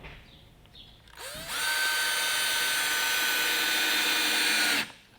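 Cordless power driver sinking a screw into a wooden sawhorse: a short whir and start, then one sustained high-pitched motor whine of about three seconds that cuts off abruptly, loud and close.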